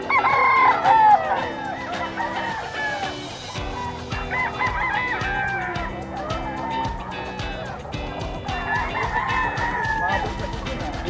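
A White Kelso rooster at a pet market crows loudly and repeatedly in long rising calls, with other fowl clucking and crowing around it and people murmuring in the background.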